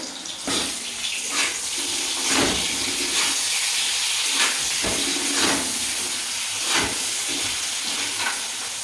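Tofu pieces frying in oil with salt and turmeric, a steady loud hiss and sizzle with periodic bursts of bubbling and spattering as the pieces are moved around.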